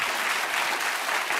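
A studio audience at a talk show claps steadily at moderate volume, a dense, even wash of applause with no break.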